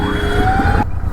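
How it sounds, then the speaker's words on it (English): Emergency siren from an ambulance stuck on a rough road in India, a steady wailing tone over road and engine noise that cuts off abruptly near the end. "An ambulance here for some reason"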